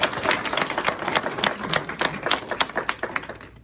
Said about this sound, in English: So a round of applause for CLADA.